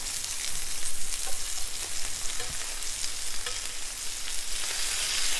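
Hamburger patties fry in a pan with a steady, dense sizzle and spitting crackle that holds evenly throughout, close up with no voices.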